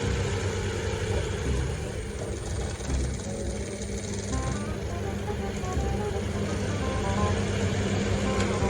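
An electric fan, speed controlled by a cheap dimmer, whirs steadily at a moderate level, a low motor hum with broadband airflow that gradually eases as it slows down, with no talk.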